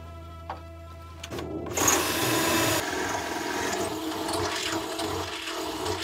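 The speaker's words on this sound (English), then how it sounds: "I'm just gonna cut some of this leftover L bracket that we had" A leftover metal L bracket is cut, producing a loud, steady rushing cutting noise that starts abruptly and continues without a break through the rest of the clip.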